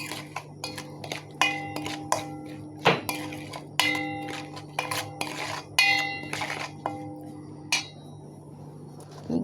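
Metal spoon clanks and scrapes against a pot while vinegar, two large garlic cloves and sun-dried mango pieces are mixed together, a steady series of close, bright clinks with tonal ringing and no talk.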